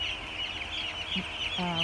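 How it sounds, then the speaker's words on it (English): A crowd of chickens in a poultry house clucks and chatters while drinking, a dense, continuous bird din with a nearby louder cluck near the end, steady and close. "When the birds are drinking"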